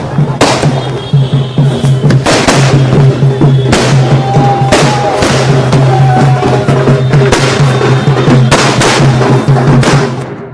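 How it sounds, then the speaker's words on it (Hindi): Fireworks burst over Bihar during a Diwali-like street celebration: repeated loud bangs and crackles arrive in irregular bursts over a continuous dense crowd din, close and heavy throughout. "बिहार में आतिशबाजी शुरू हो गई, दिवाली सा जश्न शुरू हो गया, आसमान में पटाखे"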